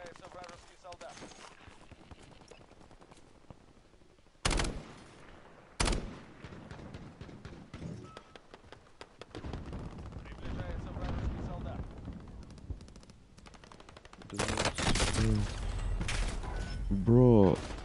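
Several heavy shotgun blasts in Call of Duty: Warzone gameplay, spaced apart among game noise and a talking player, with louder bursts near the end.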